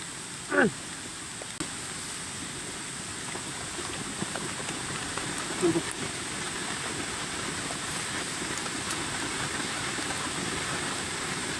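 Light rain falls steadily, a soft continuous hiss that rises and eases, with a couple of brief voices and faint knocks breaking through near the start and middle.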